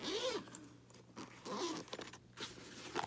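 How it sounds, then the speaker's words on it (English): Zipper on the fabric case of an optometry diagnostic set being pulled around the case, several close, quiet zipping strokes with short pauses between them and no talking. "what you do is you just zip around."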